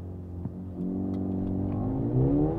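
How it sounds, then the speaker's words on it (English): A Mercedes-AMG A35 sedan launches under launch control, its engine note holding steady then rising in pitch as the car pulls away, fairly close, with a few light clicks early on. "you get drive modes like this where you can do launch controls"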